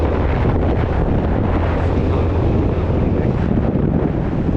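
Steady, loud wind buffets the microphone without a break on a cold mountain road during a motorcycle ride to Sikkim, a continuous roaring rush with no other sounds standing out.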